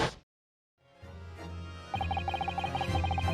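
In the Great Ace Attorney 2 video game, a firework bang that sounds like a gunshot pops sharply at the start, followed after a brief silence by game music.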